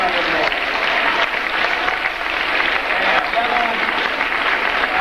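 An audience at a school orchestra event applauds, with dense, sustained clapping filling the room at steady loudness from start to finish.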